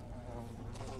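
A fly buzzes in the video game Flicker of Hope, a close, steady droning hum lasting about a second.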